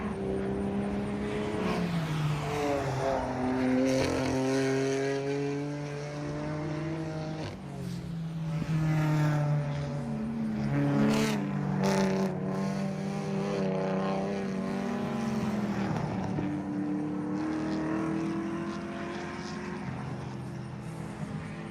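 A race car engine drones steadily down the front straight during a World Racing League endurance race at New Jersey Motorsports Park, a sustained tonal roar that shifts slightly in pitch and stays loud and continuous throughout.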